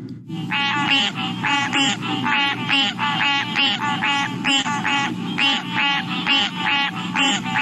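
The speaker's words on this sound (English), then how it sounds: "So green tree frogs to me sound like they're kind of honking." Green tree frogs call in a dense chorus of rapid, nasal, duck-like honks, repeating steadily over a low background rumble.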